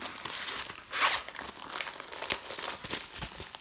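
Crinkly plastic packaging from a diamond painting kit is handled and folded up close, with a loud crumpling burst near the start followed by softer rustles and crackles.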